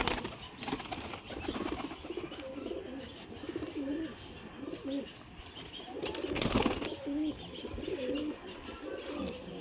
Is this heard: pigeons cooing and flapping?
yes